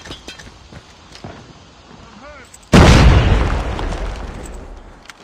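A frag grenade goes off in a war video game: a sudden loud, close blast with a long, rumbling decay follows a couple of seconds of quieter, scattered in-game sounds.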